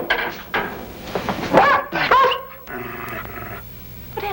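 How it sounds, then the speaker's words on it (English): A dog growls and snarls in bursts in a 1953 period film scene, loud and close, with rough rising snarls and short yips between pauses. "What happened to the dog?"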